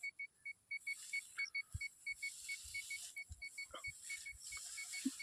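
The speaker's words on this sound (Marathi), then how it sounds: "मशीनचा बीप असतोय बघा" A water detector machine, used for finding groundwater in a farm field, emits a rapid, regular series of short high beeps, fairly faint, with soft thumps and rustling in the background.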